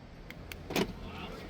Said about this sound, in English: Open and close the door,